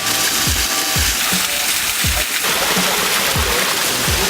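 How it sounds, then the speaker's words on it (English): Lower Doyle's River Falls, a waterfall, roars as a steady, loud broadband rush of falling water heard close by, with a few low thumps breaking through at intervals. "Here it is, the real Lower Doyle's River Falls."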